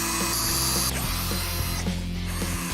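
A power drill driving screws into a wall, whirring in loud bursts that start and stop in a steady, repeating rhythm, with mechanical clicks between the runs.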